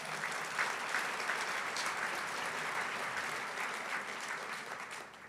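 Sustained audience applause fills a banquet hall at a 50th anniversary gala, a dense, steady clapping from a large crowd that holds evenly throughout and tapers slightly at the end.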